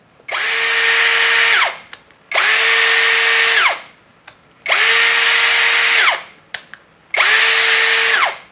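A Hasston 21V cordless brushless impact drill runs in four loud, close bursts of about a second and a half each, spinning up and winding down with short pauses between, and no talking.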